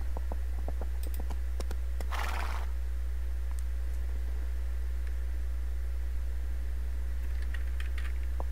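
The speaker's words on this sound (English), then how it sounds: "get on our horse." A horse neighs in the online role-playing game Age of Conan, one short whinny rising over a steady electronic hum, with scattered keyboard clicks and mouse taps around it and no talk.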